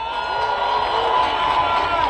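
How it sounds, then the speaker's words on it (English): Crowd at an outdoor climate march in Glasgow during COP26 cheering and whooping for speakers, a steady dense roar of voices sustained throughout without a break. "round of applause there for the last speakers"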